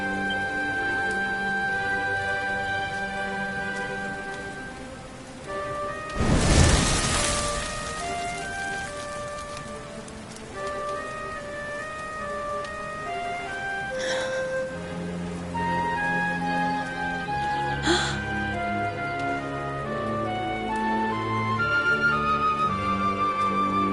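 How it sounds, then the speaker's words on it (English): Steady rain in Dragon Quest 11 falls continuously for the whole stretch under a layer of game music, with one louder burst of noise partway through. "Looks like the rain's dying down."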